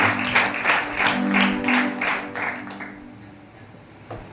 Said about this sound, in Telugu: ప్రతి ఒక్కరు కూడా చప్పట్లు కొట్టి వారిని మనం ఆహ్వానిస్తున్నాం